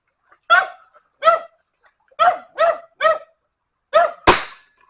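A dog barks in a forest during a monitor lizard hunt, giving about seven sharp, evenly spaced barks at moderate distance, with a sudden louder burst near the end.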